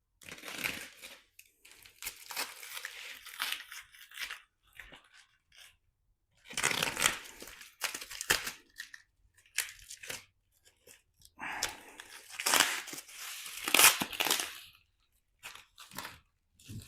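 Cardboard and foam packaging around a solar panel being cut and torn open by hand, with intermittent bursts of ripping, crunching and crinkling separated by quiet pauses, close to the listener.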